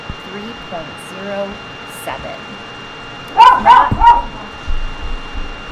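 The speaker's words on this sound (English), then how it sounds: "That's my dog barking out the window." A dog barking out a window gives a quick run of three or four barks partway through, fairly close, after a stretch of quiet talking and room hum.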